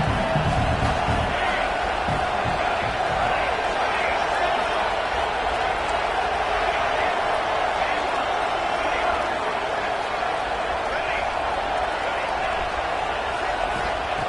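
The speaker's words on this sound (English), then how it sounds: "here comes the noise. This crowd is trying to inspire this defense to make a big red zone stop." Stadium crowd in a football video game, roaring for a red-zone defensive stop: a steady, loud wash of massed cheering and indistinct voices that holds evenly throughout.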